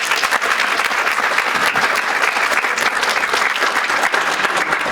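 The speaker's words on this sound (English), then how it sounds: "please give him a round of applause" Loud, dense applause from an opera audience greeting the composer, continuous clapping from a large crowd with no gaps.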